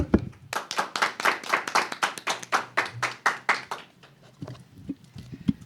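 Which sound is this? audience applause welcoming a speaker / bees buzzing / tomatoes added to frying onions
audience applause welcoming a speaker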